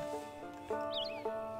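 A horse whinnies in the video game Red Dead Online, a high harmonic neigh rising and falling over a steady synthetic music bed, with a couple of soft hoof thuds.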